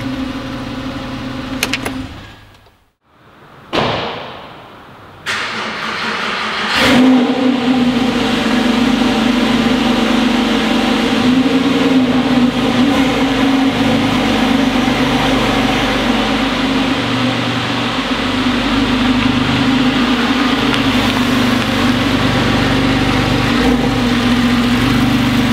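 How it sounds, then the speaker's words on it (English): A Porsche 911 Carrera S Aerokit engine runs with its exhaust valves open, a steady deep droning idle that holds loud and close after a brief drop near the start, with no talking over it. "That's the exhaust open and you hear it getting a wee bit deeper."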